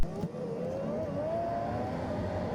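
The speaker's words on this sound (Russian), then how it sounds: "Заводим машину." A BMW car engine hums steadily at close range, with a rising whine running through a continuous mechanical drone; there is no talk over it.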